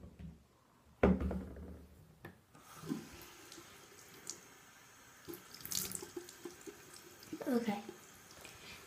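Bathroom tap running into a sink while a face is wetted, a steady soft water hiss with splashes and hand rubbing, quiet and close.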